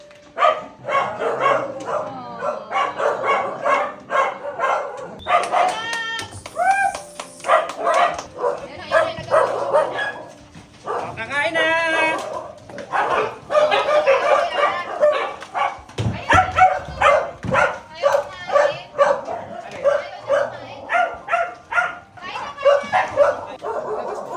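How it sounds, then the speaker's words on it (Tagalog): Many rescued dogs bark, yip and whimper at a crowded dog shelter, the barking loud, near and continuous over about 24 seconds, with overlapping excited voices and occasional whines, under a faint background of human talk. "Kaya dahil dito nag-aaway-away yung mga lalaking aso."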